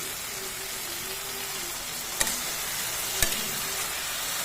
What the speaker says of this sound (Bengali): দিয়ে ভালো করে নেড়ে নিই